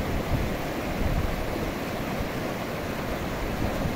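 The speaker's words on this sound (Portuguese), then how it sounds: "Descendo bastante água mesmo." Heavy floodwater rushing down a river toward the Gargalheiras reservoir in Acari, Rio Grande do Norte, a continuous loud, dense roar of flowing water with no voices.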